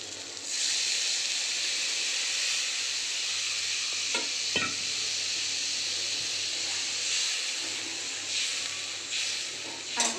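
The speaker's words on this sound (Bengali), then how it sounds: "এবার আমি জল ঢেলে দেবো।" A loud, steady hiss of sizzling follows as water goes into fried masala with Kashmiri chili powder for a Bengali fish curry, with a couple of brief utensil knocks and no voices.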